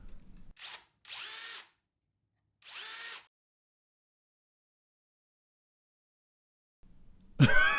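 A drill chamfers a screw hole in a wooden desk, three short, close whirring bursts separated by pauses, then silence before some brief handling noise at the end.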